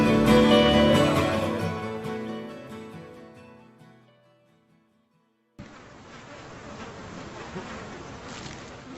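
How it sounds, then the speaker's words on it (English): Swarms of mosquitoes hatching over the waterlogged Alaskan tundra make a dense, steady buzzing drone that starts abruptly after a fading musical passage and holds evenly to the end. "The air is now clouded by buzzing swarms of bloodsuckers."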